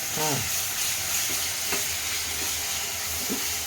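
Ginger garlic paste frying with onions in a pan, a steady close sizzle with occasional stirring scrapes and clinks.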